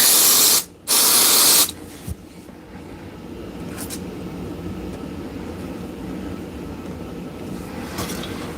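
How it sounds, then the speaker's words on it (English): A loud hiss of spray bursts out twice in quick succession, close by at a woodturning bench, followed by a steady low background rumble. "Put a little bit of spray on here."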